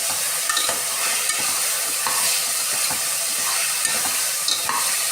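Mixed vegetables and green peas for a vegetable biryani sizzle steadily in a hot pan, with a continuous bright frying hiss and repeated scraping stirs throughout.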